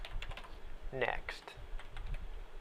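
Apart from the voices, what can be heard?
typing on a computer keyboard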